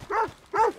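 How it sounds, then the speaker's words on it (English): Dogs attacking in the video game Red Dead Redemption 2: two loud, close snarling barks about half a second apart, with no talk over them. "Get your dogs off me!"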